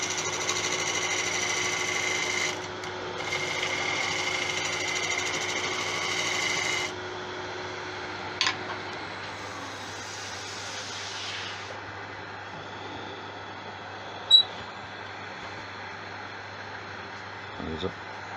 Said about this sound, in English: I'm going to do a side bevel cut, because I don't actually want to cut anything, I just want to take glue off.